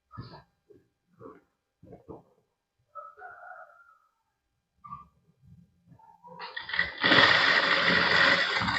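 A sewing machine stitches a fall onto a stone-work saree. Someone talks for several seconds, then the machine starts and runs as a loud, steady, close whirring drone until the end.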